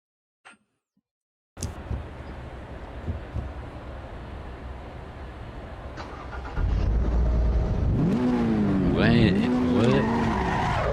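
Race car engine starting in a sim racing game: a short click, then a steady mechanical whir, the engine catching with a louder rumble and rising, swooping revs near the end.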